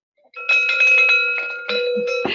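A notification bell sound effect, a loud, clear, sustained ringing chime with a steady sharp tone that is pulsed in quick repeated strikes, standing alone with no speech.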